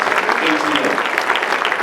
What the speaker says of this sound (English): big round of applause for Kim McBride